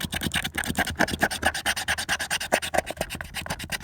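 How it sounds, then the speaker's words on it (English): Soaked grime is scrubbed off an item with rapid, rhythmic back-and-forth rubbing strokes, steady and close, with no voices over it. "And you can scrub it off. And it just starts to come right up."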